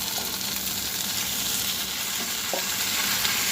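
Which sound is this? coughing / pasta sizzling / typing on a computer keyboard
pasta sizzling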